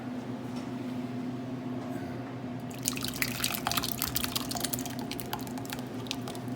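Homemade tomato gravy poured from a hot pan, a thin liquid trickle with bursts of spattering drips that grow busier and louder partway through, over a steady kitchen hum.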